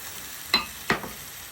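Pieces of apple and pear drop into a pan where pork chops are browning. Two quick, soft splats land about a third of a second apart over a faint, steady sizzle.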